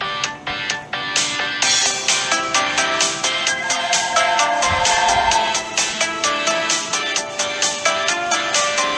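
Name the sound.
phone ringing in video game Choices: The Freshman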